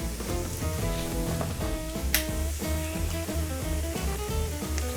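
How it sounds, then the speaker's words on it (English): Head-on shrimp fry in oil with browned garlic and plenty of chili flakes, sizzling steadily and close up while music plays underneath. "Once the garlic starts turning a little bit brown is when you want to add in your shrimp."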